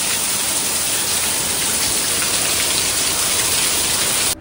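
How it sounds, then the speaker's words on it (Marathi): Heavy rain pours steadily in a Konkan village, a dense, even hiss of drops drumming on surfaces without pause, loud and close, with no voices. "आता पाऊस सुरू झालाय चांगलाच, बघा एकदम जोरदार पडतोय"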